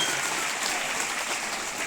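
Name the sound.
audience applause welcoming at school sports event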